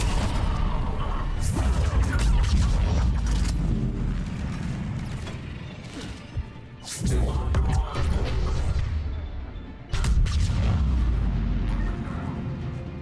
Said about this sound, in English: Fiery explosion.